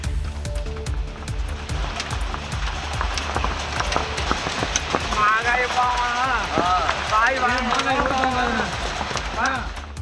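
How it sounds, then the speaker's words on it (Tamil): Hail and heavy rain pelt down without letup across Arani and nearby areas of Tiruvannamalai district, a dense, steady clatter running the whole time, with sporadic voices and other sounds on top. "திருவண்ணாமலை மாவட்டம் ஆரணி மற்றும் அதன் சுற்றுவட்டார பகுதிகளில் இடைவிடாது ஆலங்கட்டி மழை பெய்தது"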